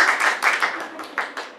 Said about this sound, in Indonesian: Tepuk tangan satu kali lagi buat membuka ini.